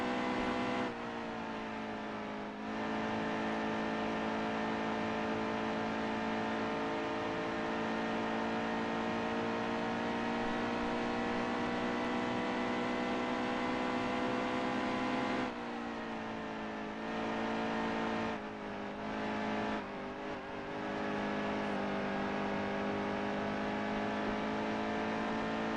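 Race car engines drone steadily as cars run laps late in a Cup race at Charlotte, one sustained loud whine with brief dips and shifts, no talk over it.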